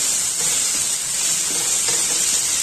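Chopped tomatoes and onions sauté in a pan for a malai paneer gravy, giving a steady, close, fairly loud hissing sizzle throughout with faint stirring underneath and no talk.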